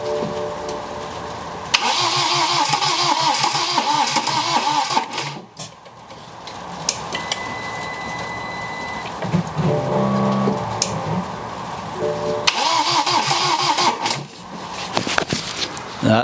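A diesel engine, just back from a snapped glow plug repair, cranks over and over in two long bursts of rapid starter chugging, with a loud mechanical whir between them. Each attempt sputters without catching, and a brief quieter lull separates the tries.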